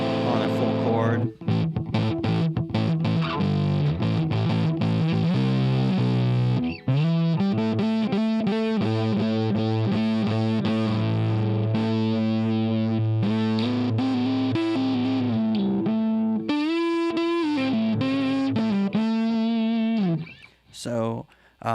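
Distorted electric guitar chords through an amplifier emulator ring out loud and sustained, changing every bar or so with individual notes audible within the crunchy tone.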